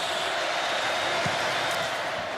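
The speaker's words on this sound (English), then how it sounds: "part of the record crowd that's making a lot of the noise" A record stadium crowd at a 2019 Notre Dame at Georgia college football game sends up a steady, loud, unbroken roar that fills the whole stretch without a lull.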